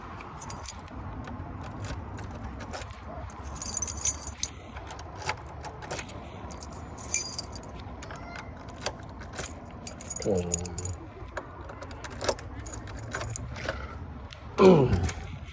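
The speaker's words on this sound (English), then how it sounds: "We've got a set of 3 keys." A set of three small keys for a residential building's front door and post box jangles and clinks in scattered bursts, with a few louder rattles near the end, amid faint background noise.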